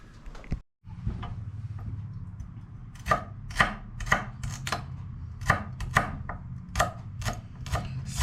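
Knife chopping celery on a board, a series of crisp, close cuts in an uneven rhythm over a low steady hum, with no talking.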